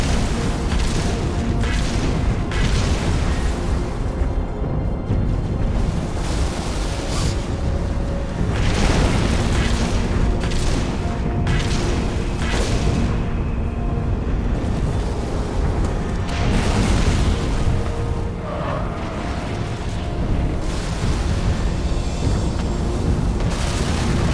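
Gauss cannon firing in Halo: Reach on Xbox 360, a dense run of heavy booming blasts and bursts over continuous battle noise, loud and close throughout with no clear pauses.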